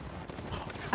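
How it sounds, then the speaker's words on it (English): Scattered enemy gunfire in Uncharted 4: A Thief's End, a dense low crackle of shots underneath game sound, ending in a sudden loud burst. "Oh my god, there's so many people shooting at me."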